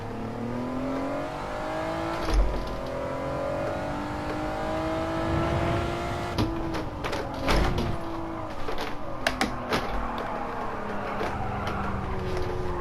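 A car in Gran Turismo 7 drifts through corners with the engine revving and falling as the throttle is worked, punctuated by sharp thumps and clicks from gear shifts and bumps, steady and fairly loud throughout.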